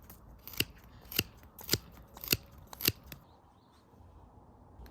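Compact garden pruning shears with small, thin handles snip five times in a steady rhythm, each a sharp, close metallic click-and-cut, followed by quiet.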